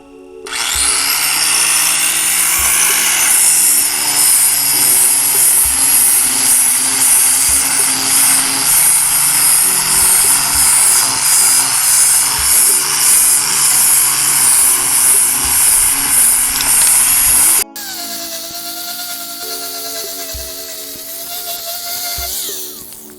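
A power tool grinds away old fairing on the transom of a 1984 Grady White boat, a loud, close, continuous abrasive whine that holds steady, then drops to a quieter grind near the end.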